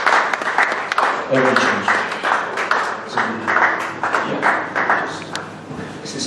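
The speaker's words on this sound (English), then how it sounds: "Please, let's keep clapping for him now, please." A church congregation applauds at a Sunday celebration service. The claps come in uneven waves while someone speaks over them, and a few heavier thumps are mixed in.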